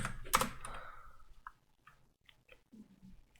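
Keys clack on a computer keyboard as a sudo apt-get update command goes into a Raspberry Pi terminal. A loud opening keystroke is followed by a few soft, scattered taps in a quiet room.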